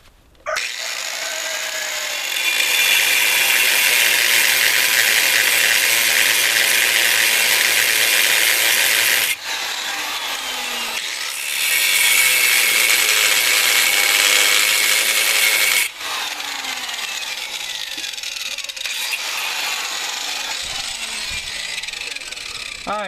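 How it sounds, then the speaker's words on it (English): Angle grinder cutting an X-shaped groove into a seized rear shock mount on a Ford Ranger, a loud steady abrasive whine in two long bursts with brief pauses between, close up and without talk. "you take your grinder and you're going to cut an X into it as deep as you can"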